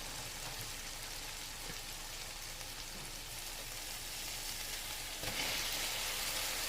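Cumin seeds fry in hot oil in a pot, giving a steady, dense sizzle that crackles close by and grows a little louder near the end, with no talking.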